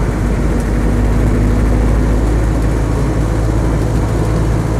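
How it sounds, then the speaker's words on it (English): Land Rover Defender 90 soft-top with a 2.5 diesel engine running steadily, a constant low rumble and drone with a faint higher whine, close and loud throughout. "Engine feels nice and quite lively actually."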